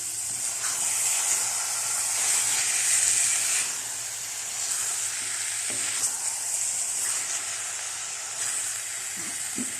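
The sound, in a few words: carrot halwa being roasted and stirred in a pan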